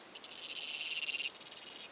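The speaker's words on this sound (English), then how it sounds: "Let's play the frog sound" Call of a rare frog species from Australia, played back as a recording: a steady high-pitched trilling chorus of rapid pulses, fairly loud and alone, with no talk.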